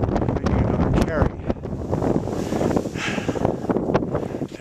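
Strong wind buffets the microphone high on Aconcagua at about 18,500 feet, producing loud, gusty rumbling and flapping, with a voice faintly mixed in under the roar.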